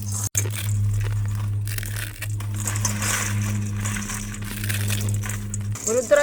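Dry noodle cakes are broken up by hand for a vegetable noodle dish, giving steady crunching and crumpling under a constant low hum.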